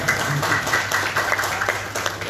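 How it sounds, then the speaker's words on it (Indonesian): An audience of village heads claps at a talk on the role of parliament in village development, a brief burst of fairly loud hand clapping that stays steady, with no speech over it. "tepuk tangan."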